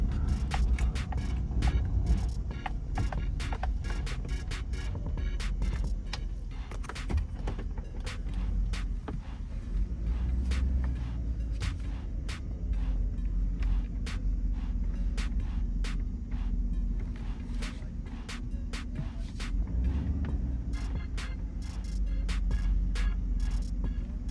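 A 1986 Chevrolet Caprice on 32-inch wheels cruises with a steady low engine drone and road rumble throughout, plus scattered sharp clicks and knocks from inside the cabin, and no talking.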